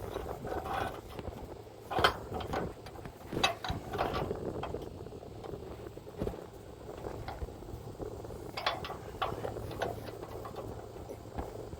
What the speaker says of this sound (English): now we'll put this on and you spin it around all the way until it's locked in there